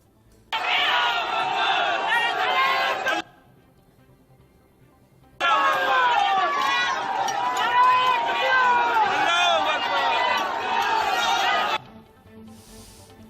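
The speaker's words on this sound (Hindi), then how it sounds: "यानी सांप्रदायिक नारे भी लगाए जा रहे हैं।" A large crowd in a Delhi riot chants slogans together in two loud, sustained bursts of massed voices, separated by a short quieter gap.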